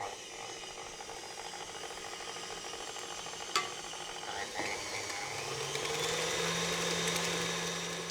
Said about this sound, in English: you can turn up the mixer a little bit and we're going to beat it until it's really well